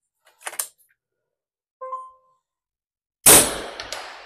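A Skout EVO airgun fires through a chronograph after a couple of small clicks and a short electronic beep, the shot landing as one sharp, loud crack with a brief ringing decay.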